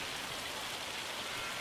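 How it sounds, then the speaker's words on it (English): Hail falling in the video game Farming Simulator 25, a steady, dense hiss of pelting ice that stays at an even, fairly quiet level throughout with no voices. "Is this? That's hail."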